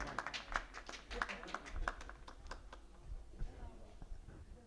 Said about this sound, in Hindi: आप जोरदार ताली उनका इस्तकबाल करें।